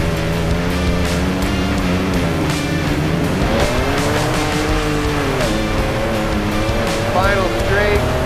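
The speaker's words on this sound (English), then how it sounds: "Twin turbo, 6-cylinder in the little Ranger that could." Twin-turbo six-cylinder Ford Ranger Raptor racing off-road, its engine roaring loud and steady with rising and falling revs and shifts, tires scrabbling throughout, close and continuous under a commentator's voice.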